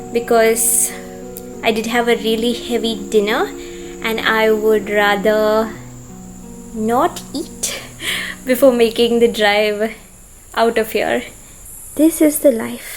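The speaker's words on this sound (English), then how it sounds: "I don't know if you guys can hear the crickets chirping, but they are chirping." Crickets chirp steadily outdoors near a villa, a faint continuous high trill running beneath someone talking close up throughout.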